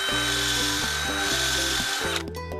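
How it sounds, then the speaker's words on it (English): Power drill boring a hole partway into a 4x4 wood post for a porch handrail, close and loud, with motor pulses and a grinding bite that changes pitch before the bit eases off near the end. "So I'm gonna drill a hole halfway into here."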